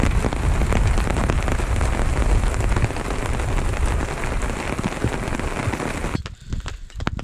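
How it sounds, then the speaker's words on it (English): Steady heavy rain falls on a campsite with hammocks and tarps in Algonquin Park, a dense, continuous close patter that thins briefly near the end, with no talking. "Then the rain hit and we all kind of retreated to our hammocks."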